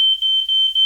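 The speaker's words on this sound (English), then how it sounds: "my fire alarms might go off now" A kitchen smoke alarm shrieks a loud, piercing continuous tone with brief dips, set off by smoke from cooking an omelette with frank and beans.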